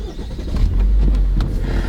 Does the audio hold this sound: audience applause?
no